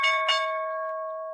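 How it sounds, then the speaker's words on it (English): A trading bell rings out once on the floor of a market, a bright metallic strike followed by a clear sustained tone that slowly fades over a second or so, with no talk. "trading bell"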